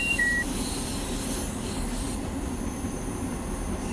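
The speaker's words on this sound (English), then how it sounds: "With our noisy little train." A Long Island Rail Road commuter train in Train Sim World rumbles along steadily, its low wheel and motor noise continuous and close, with a brief high squeal near the start and no talking.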